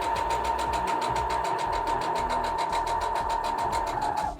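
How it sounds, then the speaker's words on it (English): Sewing machine stitching pillow fabric, a steady fast mechanical whir with rapid rhythmic needle thumps, close and loud, running continuously before stopping at the end. "lift your foot, turn the fabric, and start sewing"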